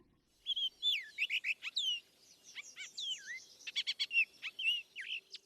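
Baltimore Oriole song: a run of clear, rich whistled phrases and short chattering notes, loud and close, repeating over several seconds with brief pauses, no voices.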